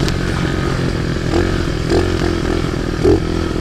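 A Chinese Baja pit bike engine runs close by with a steady, throaty drone, its pitch swelling briefly in a few short revs before settling back.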